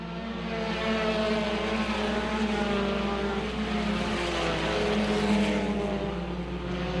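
Thunder Car class race cars circle an oval track, a steady loud roar of several engines blending into a continuous drone with no break across the whole stretch.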